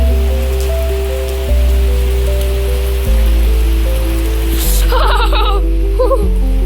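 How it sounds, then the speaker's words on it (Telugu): Heavy rain pours down steadily in a village, a dense continuous patter on surfaces with a low steady rumble underneath and a brief faint voice near the end. "చాలా వర్షం పడుతుంది, ఫుల్ పడుతుంది."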